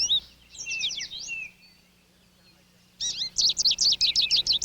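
Goldfinches in dull olive winter plumage chirp at a backyard feeder, with quick bright twittering phrases in two bursts separated by a brief lull, the second run louder and more rapid.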